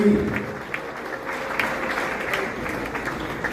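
A wedding audience claps steadily, a dense, moderately close round of applause that holds even throughout, with a voice faintly mixed in at the start.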